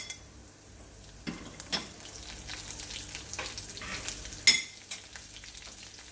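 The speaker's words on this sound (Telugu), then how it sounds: "మిరపకాయలు కొంచెం వేగాయి కదా అప్పుడు" Green chillies fry in hot oil in a pan, giving a steady close sizzle with a few louder crackles and stirring scrapes, and no voices over it.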